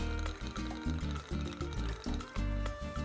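Bacardi Maestro de Ron light rum poured into a cocktail vessel, a close, continuous gurgling liquid stream with rhythmic glugs from the bottle neck, heard alone.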